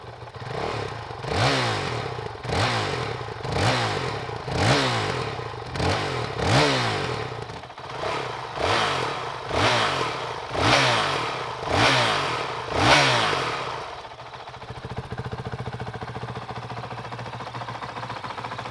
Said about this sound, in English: Now let's start the bike up and show you guys what it sounds like